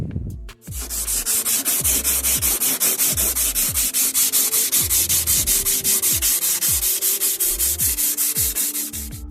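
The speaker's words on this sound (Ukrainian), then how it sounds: "І можна вже починати шліфувати." Car body filler is sanded rapidly and rhythmically by hand with rough back-and-forth scraping strokes, loud and close, continuing steadily throughout.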